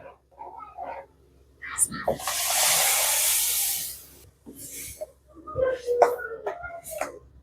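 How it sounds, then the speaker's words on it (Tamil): A steady hiss of ground tomato paste sizzling and simmering in a pan swells for a couple of seconds, with clinking and faint sounds before and after. "இது நல்லா கொஞ்சம் கொதிக்கட்டும்"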